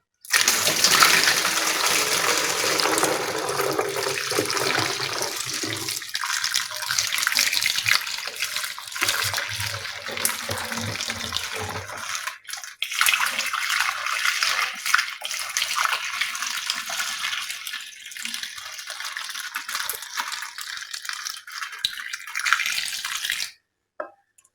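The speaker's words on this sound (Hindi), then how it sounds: "एहतियात के साथ आपने पानी इसमें डालना है।" Water pours steadily through a plastic nozzle into an empty bottle, a continuous loud gushing splash that thins and breaks into a lighter trickle midway before stopping abruptly near the end.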